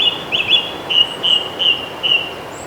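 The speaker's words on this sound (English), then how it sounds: "The birds are chirping." Birds chirp in a spring woodland with the sun misting through the trees in Kent, a series of bright repeated high calls in short bursts at a steady rhythm over quiet background hiss, no talking.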